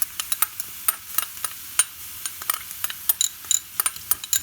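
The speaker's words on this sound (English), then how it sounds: "we are here over a medium heat, sealing the juices of the meat, sort of browning a little bit" Minced meat browning in a pan over medium heat for stuffed aubergines, with quick stirring scrapes and light crackles coming in irregular bursts over a soft sizzle, close by and fairly quiet.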